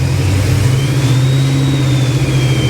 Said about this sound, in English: gonna rev it up